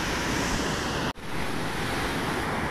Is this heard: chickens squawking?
no